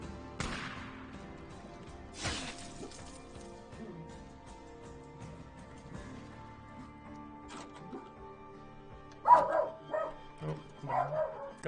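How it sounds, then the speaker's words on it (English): A dog in the Days Gone video game barks a few times at something, sharp yips first and then a louder burst of barking near the end, over a quiet game ambience. "Dog's barking at something."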